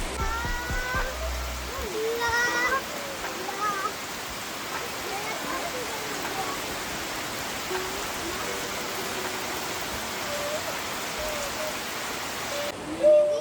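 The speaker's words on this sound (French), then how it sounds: "pour passer le temps sous cette pluie tropicale" Heavy tropical rain pours down in a dense, continuous roar in the Sumatra jungle, Indonesia, with faint voices briefly audible early on beneath the downpour.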